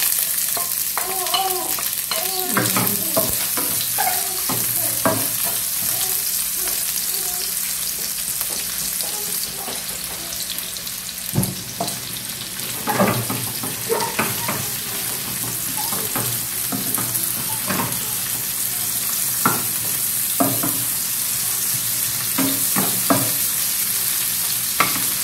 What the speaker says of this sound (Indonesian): Kita goreng bumbunya